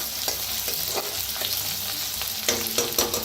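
Spices lightly roast in a hot pan, giving a soft continuous sizzle with small crackles and a few stirring scrapes, close and alone without talk.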